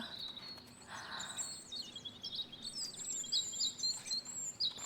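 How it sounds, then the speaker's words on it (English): Robins singing in the video game Botany Manor, many bright chirps and warbling phrases that come in quick, irregular bursts over a faint, quiet background. "Look at all the robins."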